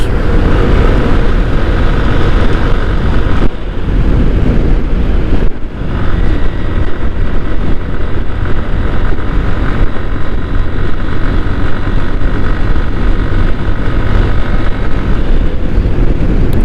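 Motorbike riding along the Dhaka-Mawa highway in Bangladesh, with steady loud road and engine drone and heavy wind rush on the microphone throughout, briefly dipping twice before continuing.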